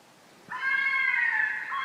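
After a brief quiet moment, a fisher's loud, sustained shrieking cry begins abruptly and holds steady, harmonic and piercing, like a cat's drawn-out scream, from woods.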